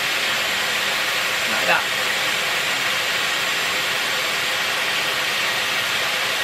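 Dyson Airwrap hair styler blowing air steadily while curling a section of hair, a constant loud breathy whoosh running throughout with a brief bump partway and a short spoken remark.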